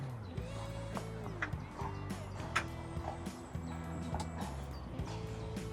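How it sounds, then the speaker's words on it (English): Hooves clip-clopping at a steady trot, fairly close, over a constant low hum, with occasional sharper knocks. "Your horse is going by."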